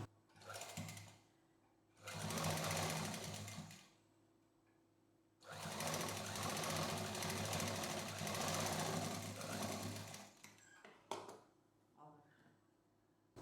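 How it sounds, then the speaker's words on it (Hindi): Sewing machine stitching a double-folded cloth edge, two loud close runs of rapid mechanical whirring, one short and one long, separated by pauses with a faint background hum. "यहाँ पर इस तरह से डबल फोल्ड करके और इसको सिल देंगे"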